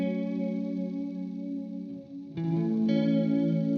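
Electric guitar through a Walrus Audio Slötvå multi texture reverb pedal with warp modulation on, giving sustained chords a wavering, chorus-like shimmer; one chord rings, fades briefly, then new chords enter louder, close and alone without talking.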